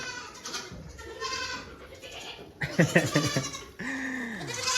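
Several goats bleat close by, overlapping calls of different pitches in quick succession, one ending in a long wavering cry.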